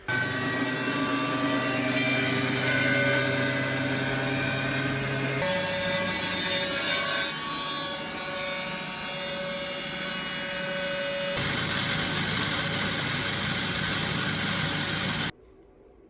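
A Bosch WFF1401 washing machine motor with new bearings whirs and hums loudly and steadily, shifting pitch slightly in a few stages before cutting off abruptly near the end.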